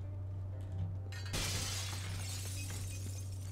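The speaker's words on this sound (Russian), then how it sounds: "Кто там стекла ломает?" Glass shatters with one sharp, loud crash in the video game Rainbow Six: Vegas, followed by a scattering of falling shards over a steady low hum.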